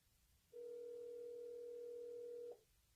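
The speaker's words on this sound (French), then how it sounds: "Je vais l'appeler en vidéo." A video call ringing tone: one steady electronic tone lasting about two seconds, clear and alone over faint room hiss.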